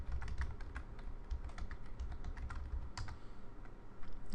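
Computer keyboard typing to log in over SSH, a rapid irregular run of close clicky keystrokes with brief pauses, no voices.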